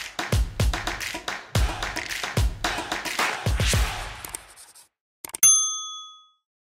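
A single bright notification-bell ding rings out clearly near the end, following a run of sharp, irregular taps and knocks, with no voices.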